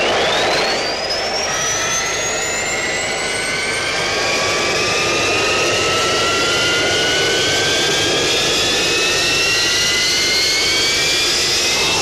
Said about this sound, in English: Stand by to start up all aircraft.